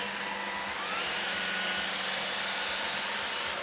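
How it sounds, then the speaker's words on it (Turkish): A Shark Detect Pro cordless stick vacuum cleaner runs with a loud, steady motor whir and a high airy whine that rises slightly in pitch after the first second, with no talking over it. "Süpürgeyi çalıştırıyorum."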